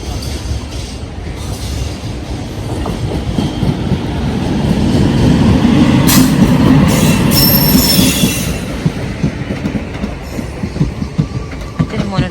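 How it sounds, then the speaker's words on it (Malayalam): A train rumbles past close by in Kanhangad, Kerala, swelling in the middle with rattling wheels and a brief high squeal, then easing off again. "ട്രെയിൻ കാണുന്നുണ്ട് ആദ്യമായിട്ട് കാണുമ്പോൾ"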